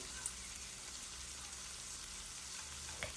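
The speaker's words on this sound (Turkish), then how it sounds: "İyice kızartıyorum ki hem kokulu hem lezzetli olsun." Steady, close sizzling of chicken frying in hot oil in a pan, a continuous crackling hiss with occasional sharper pops.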